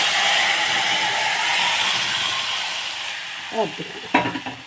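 Moong dal hitting a hot pan and being stirred: steady loud bright sizzling throughout, with scraping and clattering stirring strokes near the end.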